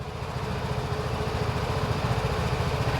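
A Vespa Primavera scooter, US-market model, idles steadily at close range, a low, even putter running alone throughout.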